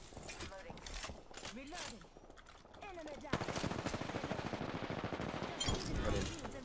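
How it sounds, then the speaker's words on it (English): Gunfire in Apex Legends crackles in rapid bursts, a sparser stretch giving way to a dense sustained volley in the second half, with voices talking over it. "Oh, he's shooting at me."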